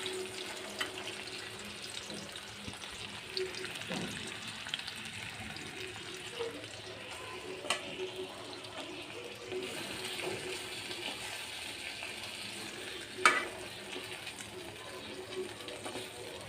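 Two tatkini fish fry in a pan with a faint, steady hiss and occasional soft pops and clicks, heard alone without talk.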